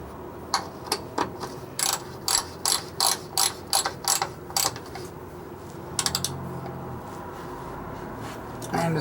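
A hand ratchet clicks in bursts of rapid pawl ticks while tightening a bolt on an M5OD-R2 five-speed transmission of a Bullnose Ford F150 Cummins project truck, close and crisp, with a pause and another short burst.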